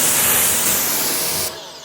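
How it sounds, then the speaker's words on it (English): A steady hiss of ceramic spray coating misted onto a car's matte-finish panels during an exterior detail, loud and continuous, then cutting off sharply near the end. "So spraying this on it and then rinsing it off."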